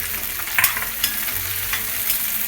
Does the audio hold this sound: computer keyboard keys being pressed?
no